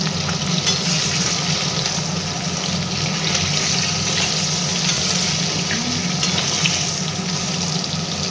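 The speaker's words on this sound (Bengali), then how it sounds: "মাছগুলো দেখুন হালকা ভাজে বেশি কড়া করে ভাজে না" Pieces of katla fish fry in oil with a loud, unbroken hiss of sizzling that holds steady throughout, close up and without any voices.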